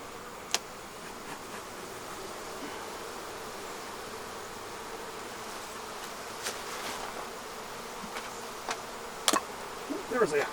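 Honey bees buzz around an open yellow hive, a steady faint hum with occasional brief knocks and clicks close by.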